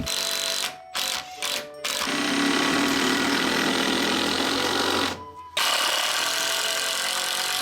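A power driver in a carpenter's hands, driving screws into wood in a derelict building, whirs loud and close in a long continuous burst after a few short stuttering pulses, then stops briefly before whirring again.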